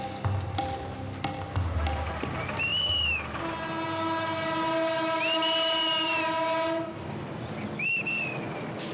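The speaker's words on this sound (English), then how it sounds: "The train, which is transporting Safiq the Imam and his pilgrims, is making slow progress towards Dhaka" A crowded passenger train carrying pilgrims toward Dhaka, Bangladesh, sounds its horn in three loud, sustained blasts, the longest held for several seconds, over a low rolling rumble and clatter of the carriages.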